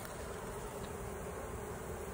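Honeybees buzz steadily around a hive and its drawn-out comb, making a constant, dense drone with no breaks and no talking.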